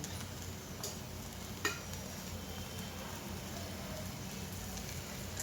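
Okra with gram flour being stirred in frying oil, a soft steady sizzle and scrape with a couple of faint utensil clicks, close and alone.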